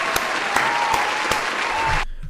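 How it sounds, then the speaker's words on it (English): Sustained clapping from a group of people, fairly loud and even, ending abruptly near the finish. "Round of applause for doing something"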